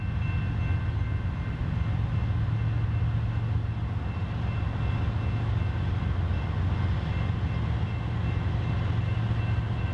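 A BNSF general freight train rolls past on a busy Missouri line, a steady, loud rumble of wheels and railcars that fills the whole stretch without letting up.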